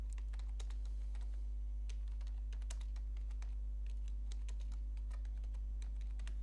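Typing on a computer keyboard while filling in an online HRMS form: a steady run of quick, light key clicks, close and fairly quiet, with no one speaking.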